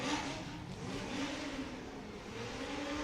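The TNBC BMW drift car driven by Blake Olsen revs hard during Formula Drift Pro-Spec knockout qualifying. Its engine snarls steadily and loudly for the whole stretch, with no pause.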